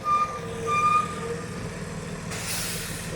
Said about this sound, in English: The freaking water truck sounds horrible. Like it's about to just quit.